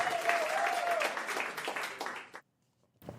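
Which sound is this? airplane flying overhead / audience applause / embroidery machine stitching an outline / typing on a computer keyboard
audience applause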